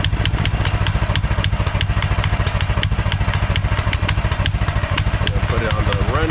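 A 212cc Predator small engine idling steadily, a close, loud, even chugging putter with rattly clatter throughout.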